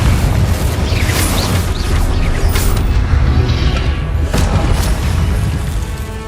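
Repeated loud booming blasts from the Confringo spell in Hogwarts Legacy, dense and continuous over a rumbling game soundscape, with several sharper bursts standing out.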